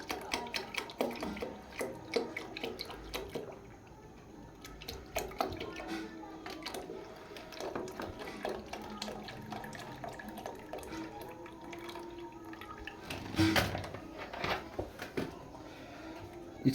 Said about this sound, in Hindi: अभी इसमें दूध डालेंगे। ये तकरीबन 1 लीटर से ज़्यादा ही दूध है,